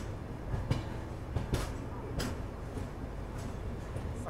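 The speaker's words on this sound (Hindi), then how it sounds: "2 मिनट का हॉल्ट टाइम, तो ट्रेन निकल चुकी है यहाँ से।" The Delhi Ajmer Shatabdi train departing a station, a steady low rumble of rolling carriages with intermittent metallic clicks and clunks over the rails, moderately close and continuous.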